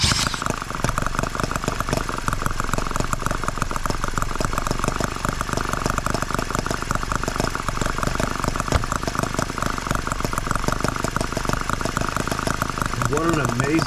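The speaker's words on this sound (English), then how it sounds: "Flip our switch, grab our drill," A tiny Microcosm H74 model engine, freshly fitted with a new ring and started with a drill, runs at a steady, fast, buzzing idle throughout, continuous and fairly near.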